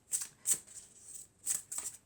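Tarot cards being shuffled and drawn, four crisp riffling bursts close by with short pauses between, no talk.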